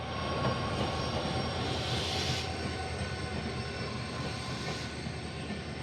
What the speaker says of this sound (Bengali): এই ট্রেনটা আসছে ভাস্কো দা গামা থেকে